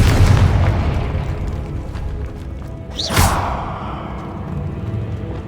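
The Confringo explosive spell goes off in Hogwarts Legacy, a single loud boom with a sharp whooshing burst midway through, set against a rumbling game soundscape.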